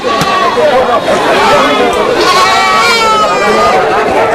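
Goats bleat repeatedly amid a busy livestock market, their wavering calls rising over a constant crowd chatter and nearby talking.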